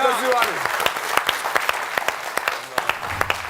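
Audience clapping at a Georgian comedy talent show, a dense steady patter of handclaps filling the room, with a host's voice speaking over it at the start.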